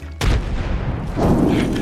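A grenade detonates in the battle royale game Apex Legends, a sudden loud boom that lands sharply and rolls into a sustained rumbling blast, with a second swell of debris-like noise near the end.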